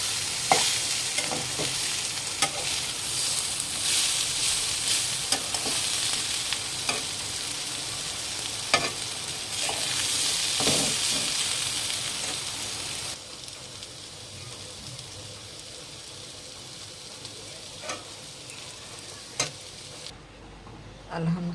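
Bitter gourd (karela) sizzles and fries in a pan while a utensil stirs and scrapes it in repeated strokes, close and fairly loud, with the frying hiss easing toward the end.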